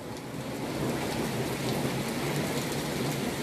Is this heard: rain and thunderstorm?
yes